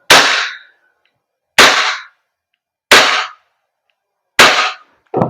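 WE Glock 17 Gen 5 airsoft gas blowback pistol firing four sharp, loud shots at a steady pace about 1.4 seconds apart, each with a snappy crack and brief decay, and a fifth shot starting at the very end.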